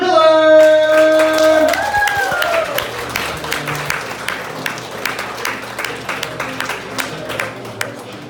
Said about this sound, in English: I want you to give a big round of applause for